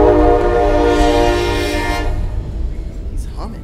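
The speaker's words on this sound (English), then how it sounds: "Time for the train to come through town." A train passing through town sounds a loud, sustained horn for about two seconds, then the horn cuts off and leaves a low rolling rumble with faint background voices.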